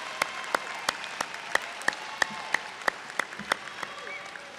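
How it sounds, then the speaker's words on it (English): Sparse, spaced hand claps from a high school graduation audience, a dozen or so sharp claps at a steady pace against a quiet room, more like a few people clapping than full applause. "Can we please have a round of applause for the parents and family members, friends and caregivers of our graduates?"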